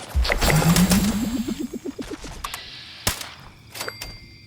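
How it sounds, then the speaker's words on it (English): Gunfire in the video game Fallout 76 as a sneak commando build shoots Scorched enemies, a loud shot followed by a rapid series of decaying metallic rings, then a few more sharp separate shots. "Watch how quickly and how many shots it takes to kill all of these Scorched."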